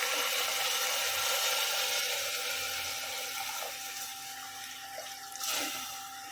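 Rice for khichdi is tipped with its soaking water into a hot pressure cooker, making a steady, close rushing pour that fades gradually and ends in a brief splash.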